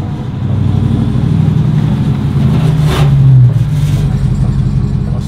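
A RAM TRX V8 pickup's exhaust rumbles steadily with a deep, loud idle, swelling into a brief rev near the middle before settling back, close by and with no talk over it.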